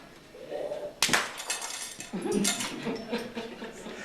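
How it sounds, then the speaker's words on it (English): A glass enclosure shattered by a punch during a live convention stage show, one sudden loud crash with a burst of breaking glass, then scattered tinkling debris and crowd noise as voices rise afterward. "With a mighty punch, the glass menagerie holding Mr. Adventure is no longer an obstacle."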